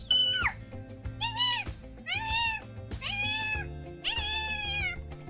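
A cat meows five times in a row, loud and close, each cry rising and falling, over a steady low background hum.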